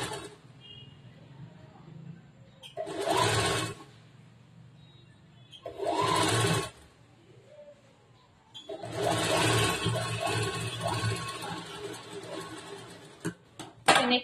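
A sewing machine stitches piping onto a blouse in three separate runs, each a steady close whirring burst, with quiet pauses between and a longer final run.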